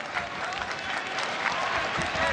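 A large arena crowd roars and applauds during a ONE Championship bout between DJ and Rodtang, a dense continuous wash of noise that runs through the whole brief moment.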